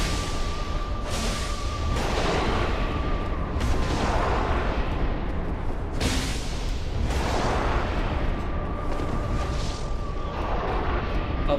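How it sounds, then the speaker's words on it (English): An explosion in Dark Souls, played as an item and enemy randomizer, builds into a loud, continuous roar with repeated heavy booming surges that fill the whole stretch and never let up. "because that's the explosion"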